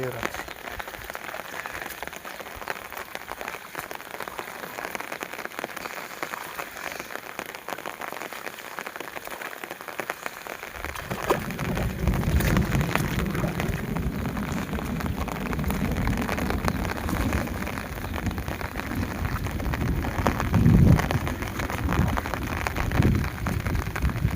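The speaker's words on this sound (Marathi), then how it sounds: "भयंकर पाऊस झाला रे" Heavy rain roars steadily over an onion field, faint at first and then swelling into a loud, dense downpour that drums on surfaces for the rest of the clip.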